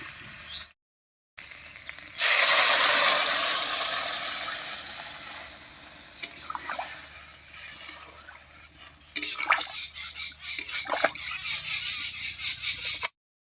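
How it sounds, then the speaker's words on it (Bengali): Water poured into a pot of taro and spice curry, a loud broad rushing pour that tapers off, followed by drips, clinks and splashing stirs. "এবারে ঝোলের জন্য জল দেব"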